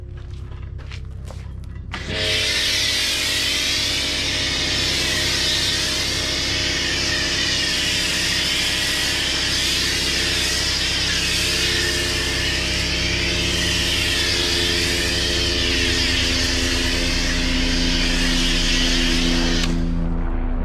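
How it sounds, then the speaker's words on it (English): A loud, steady engine roar with a low pulsing drone sets in after a couple of seconds and holds, like a helicopter passing low overhead. "Sorry about the helicopter."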